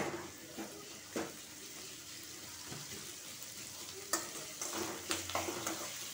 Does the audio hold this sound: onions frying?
yes